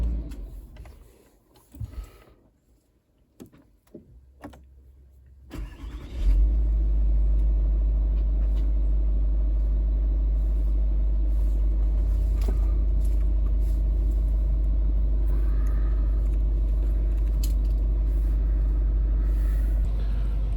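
Range Rover L322 engine starting after a few quiet clicks, then settling into a steady, deep idle rumble that continues unchanged, close by, with no talking.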